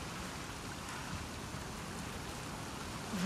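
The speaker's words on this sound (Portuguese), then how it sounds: "Vamos sair da chuva." Rain falls in The Last of Us Part II, a steady, dense hiss of drops on surfaces with no pauses and no voices.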